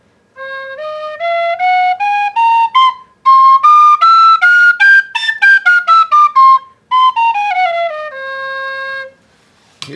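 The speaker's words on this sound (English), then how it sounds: "That's a D whistle. Here's a C whistle." C tin whistle notes climb a scale and come back down, bright and loud, the higher notes tongued in quick separate bursts.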